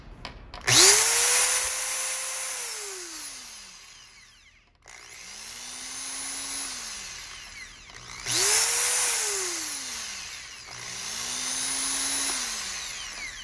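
A Makita DA3010 10 mm angle drill whines up to speed and winds down again in four separate loud bursts, with brief pauses between them and no talking.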